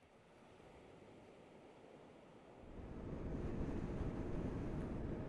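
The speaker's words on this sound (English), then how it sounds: "as this sea laps in." Sea waves lap on the western coast of Cyprus beside a coastal road, a soft wash that swells louder about halfway through, with wind buffeting the microphone throughout.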